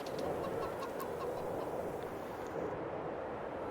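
Chickens clucking on a farm in Farming Simulator's Elmcreek map, a steady cluster of soft clucks and bird chatter over a dense, constant background wash.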